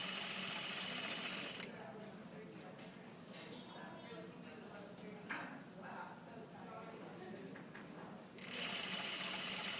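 A sewing machine stitches knit fabric at a wide stitch length, its rapid whirring needle running loud at the start and end, with quieter handling sounds and a person talking in between.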